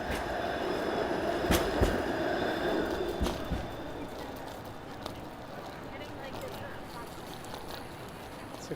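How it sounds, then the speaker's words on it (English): A Toronto streetcar passes along a city street, heard close by from a bicycle as a continuous rumbling roll with a few sharp metallic rail squeals. Someone talks over it. "I've got a streetcar"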